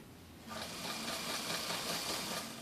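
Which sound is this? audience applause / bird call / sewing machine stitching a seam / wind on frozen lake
sewing machine stitching a seam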